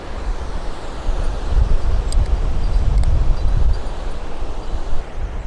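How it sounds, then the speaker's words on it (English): Wind gusting across an outdoor wooden walkway, a steady low roar buffeting the microphone with swells and lulls, loud and close, with no voices. "it's quite windy"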